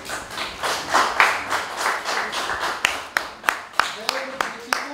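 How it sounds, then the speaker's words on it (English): An audience at a community gathering on securing the 2022 elections applauds, a loose swell of clapping that thins out into a few separate, sharp claps, with murmured talk underneath. "We can give them a round of applause."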